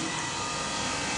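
A soft serve ice cream machine's gear pump runs in clean mode, giving a steady, continuous mechanical whir and hum with no break or change in level and no talking.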